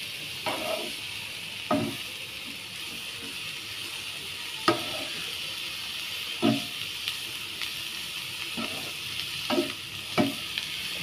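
Mushrooms with onion sautéing in a pan for a Goan mushroom chilli fry: a steady frying hiss punctuated by about eight evenly spaced spatula knocks and scrapes, close and without talking.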